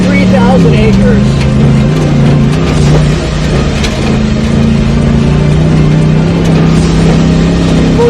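Ford Raptor truck engine droning steadily while driving across the sand dunes at Moses Lake, loud and close, with someone talking over the engine noise throughout.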